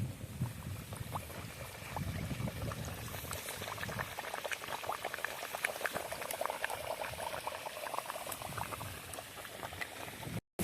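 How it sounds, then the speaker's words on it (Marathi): Pumpkin puris fry in hot oil with a dense, continuous bubbling sizzle, steady and close, with no talk over it, cutting off abruptly at the end. "एक ते दोन मिनटापर्यंत आपल्याला तळून घ्यायचे"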